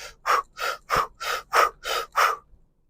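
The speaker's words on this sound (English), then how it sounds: "So it's like rapidly contracting your stomach muscles with the breath of fire." Rapid breath-of-fire breathing exercise: seven forceful, evenly spaced breath bursts in quick rhythm, close and fairly loud, then silence, with no talking.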